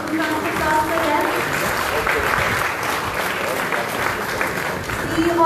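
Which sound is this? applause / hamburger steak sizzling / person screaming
applause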